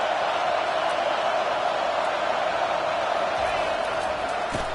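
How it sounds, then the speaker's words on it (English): Loud, steady roar of a football stadium crowd cheering at full throat, a dense wash of voices sustained without a break throughout. "This crowd, full throat, splitting the eardrums and letting them know it's going to be a long day."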